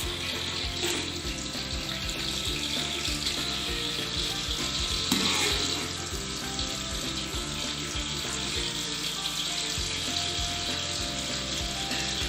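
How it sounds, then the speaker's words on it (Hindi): Two large onions fry in hot ghee in a pan, giving a dense, continuous loud sizzle with a steady crackle throughout and no talk. "हमारे प्याज फ्राई हो रहे हैं"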